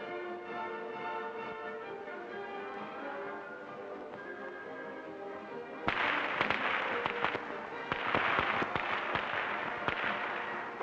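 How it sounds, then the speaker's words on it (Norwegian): Rifle shots on a shooting range, a rapid scattered series of sharp cracks starting midway and continuing densely to the end over a noisy old recording. "Førstningen kommer skuddene litt spredt."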